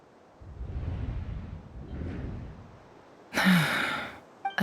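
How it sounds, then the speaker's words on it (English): A character in Genshin Impact draws a sharp, loud gasp near the end, following a quieter sighing breath and low rumbling background. "I heard Yehuda gasp"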